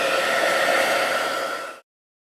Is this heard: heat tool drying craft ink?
yes